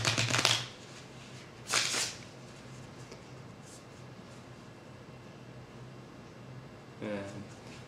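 A deck of playing cards is shuffled during an advanced card trick, heard as three short, crisp riffling bursts separated by quiet pauses, close to the microphone.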